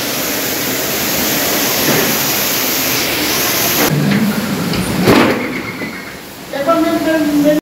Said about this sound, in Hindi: ये चेक कीजिए झरना कितना प्यारा लग रहा है भाई